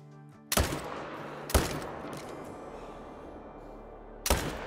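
Three loud rifle gunshots ring out in the hunting game Call of the Wild during an elk hunt, sharp close blasts spaced unevenly, each trailing into a long rolling echo.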